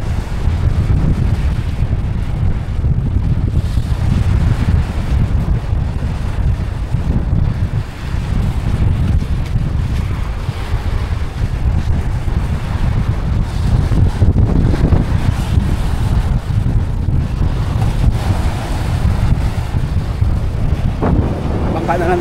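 Strong wind at sea near an island where boats are the only transport, roaring continuously across the microphone with a deep rumble that stays loud throughout, and a voice talking faintly underneath.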